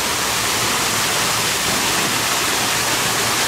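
A waterfall at a zoo pours in a steady, dense broadband rush that stays even and fairly loud throughout, with no voices over it.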